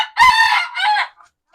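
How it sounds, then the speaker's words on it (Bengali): A rooster among chickens in a poultry house lets out a single loud, close crow with a rising then falling call, followed by a brief quiet cluck. "তবে আমার মুরগিগুলো আমার বেশ ভালো লাগে দেখুন বিভিন্ন রঙের মুরগি"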